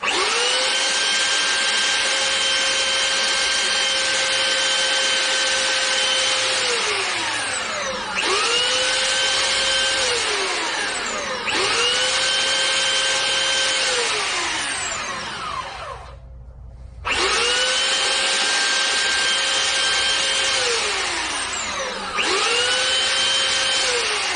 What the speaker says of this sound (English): hand sander. Just going to clean up the sides of it.